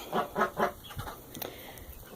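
Several short, throaty clucks from chickens in a quick burst, then softer scattered clucking and rustling nearby.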